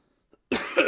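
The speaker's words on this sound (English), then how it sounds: "sorry about my half cough" A single short cough up close, preceded by a tiny click, lasting about half a second.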